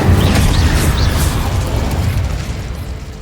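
An Incendio fire spell in the video game Hogwarts Legacy goes off as a loud, rumbling burst of flame, a heavy whoosh that slowly fades.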